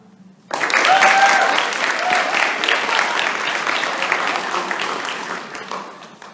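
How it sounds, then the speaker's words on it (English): An audience at a school intermediate speech arts competition breaks into a big, sustained round of applause for the contestants, rising suddenly from quiet and staying full and dense before tapering slightly at the end. "Let's give all our contestants a huge round of applause"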